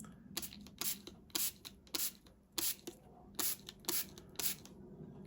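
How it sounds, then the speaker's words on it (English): A hand-pumped spray bottle mists water over Brusho pigment powders on paper, giving about ten quick, hissing sprays in an irregular rhythm, close but soft, with quiet pauses between them. "I'm not going to spray quite as close"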